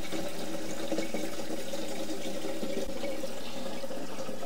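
Water runs steadily from a tap into an Aqua Roll water container, a continuous close rushing and splashing with no talk.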